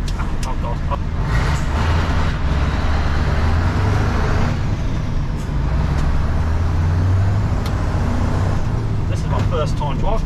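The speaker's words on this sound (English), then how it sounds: "First time driving a V8." A V8 truck is driven with spongy brakes, its engine giving a steady low drone and road noise heard from inside the cab, continuous and fairly loud.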